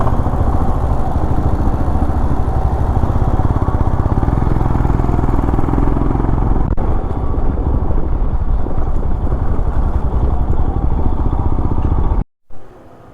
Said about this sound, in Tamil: ராயல் என்ஃபீல்டோட குரூப்புன்னு நினைக்கிறேன்.